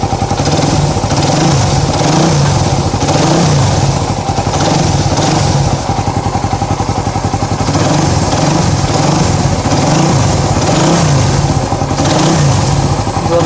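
A Suzuki Raider 150 motorcycle engine with a 68mm block idles and revs steadily up close, a loud continuous buzzing drone that rises and falls slightly throughout.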